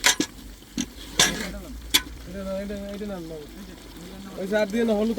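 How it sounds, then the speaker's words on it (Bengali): A large pot of goat curry, 22 kilos of mutton with plenty of spices, cooks for an Eid party. A low frying sizzle runs steadily beneath a voice talking throughout, with a few sharp knocks early on. "22 কিলো গোস, খাসির গোস রান্না করা হবে।"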